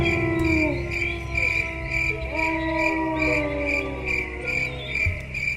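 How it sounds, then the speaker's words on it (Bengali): Steady, continuous cricket chirping at a bright pitch, pulsing in a regular rhythm alongside other insect or frog calls and a low background rumble. "ঝিঝি পোকার অবিশ্রান্ত ডাক।"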